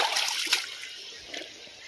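An old glass hutch bottle found while creek walking is rinsed off in creek water, giving a close splashing and trickling of water that fades to a softer dribble.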